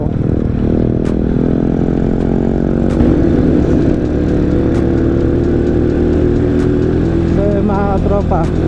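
A motorcycle engine runs steadily and loudly just ahead of the rider on a mountain ride out of Baguio City, a constant close drone with some clatter, and a voice talks over it.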